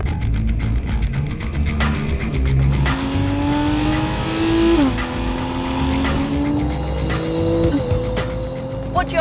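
A Porsche 911 Carrera 4S engine revs hard while driving, climbing through the gears in rising pitch sweeps with sharp shift breaks, loud and close and steady throughout.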